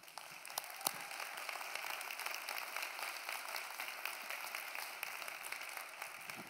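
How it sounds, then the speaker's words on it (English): Conference audience applauding, a dense steady wash of many clapping hands at moderate distance, continuing throughout with no talk. "I'm too busy getting stuff done to wait for the applause"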